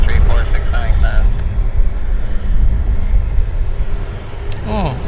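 An Air Canada Airbus A330 roars at Vancouver airport, a loud continuous broadband engine rumble filling the scene while someone talks over it.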